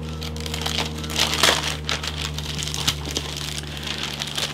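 Close-up crinkling of a sticky-taped plastic bag of Tamiya 1/48 F-4B Phantom II model kit parts being pulled open, with uneven rustles and one louder tear over a steady background hum.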